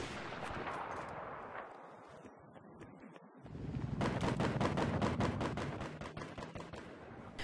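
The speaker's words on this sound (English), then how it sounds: "Now I hear a sniper shooting" Battlefield 3 combat: a quieter rumbling passage gives way to a run of sharp, repeated rifle shots at fairly steady intervals, moderately loud over background battle noise.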